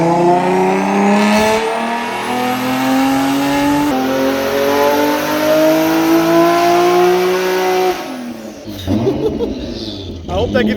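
A 1000hp Infiniti G35 running on E85 revs hard and loud from outside, its engine note climbing in long sustained pulls before dropping away near the end.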